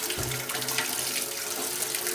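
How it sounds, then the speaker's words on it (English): Hot water running from a kitchen tap into a sink to make soapy washing-up water, a steady close rushing splash that holds evenly throughout. "I'm just going to run some hot soapy water."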